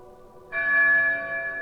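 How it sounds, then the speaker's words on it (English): A bell pulled by a bell rope in Neverwinter Nights 2 rings out clear and resonant, a single struck tone over a faint lower hum, sustained and slowly decaying. "Stop playing with the bell, child."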